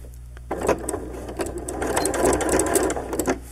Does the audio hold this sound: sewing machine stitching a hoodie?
yes